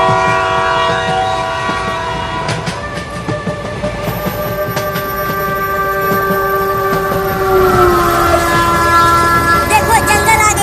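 A cartoon train runs on, loud and steady, with sustained horn-like whistle tones over a continuous rumbling, rattling rail noise throughout.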